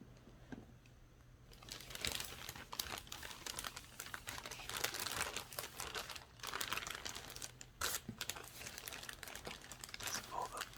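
Plastic wrapping on a Hot Toys Marvel Rocket collectible figure being handled during an unboxing, crisp close crinkling and rustling that runs almost continuously with brief pauses, intimate and detailed.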